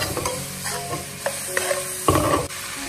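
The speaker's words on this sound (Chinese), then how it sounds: "再次快速的翻炒颠锅" Cauliflower is stir-fried with seasonings in a wok, giving a steady loud sizzle under repeated scraping and tossing strokes of a spatula against the metal.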